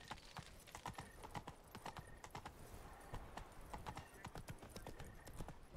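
Roach the horse in The Witcher 3 trots along with rhythmic, steady clip-clopping hooves, close and fairly quiet, continuing evenly throughout with no talking over it.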